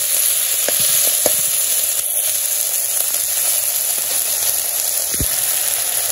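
Ground ginger, garlic and onion paste with salt, turmeric and chili frying in a pan, a loud steady sizzle with a few sharp clicks and taps of stirring, no talk.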